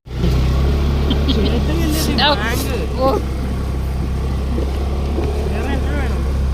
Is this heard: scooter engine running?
yes